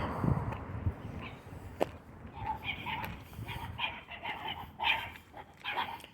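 Small puppies yip and bark in a run of short, high, overlapping calls at close range, with some whimpering mixed in and a low background rumble, no one speaking.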